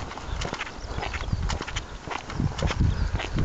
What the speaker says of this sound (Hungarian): sok itt a ló